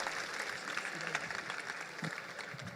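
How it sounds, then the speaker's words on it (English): Audience applause at a town hall meeting at Kensington Oval, steady and fairly faint, with a distant voice coming through now and then. "Give them a round of applause."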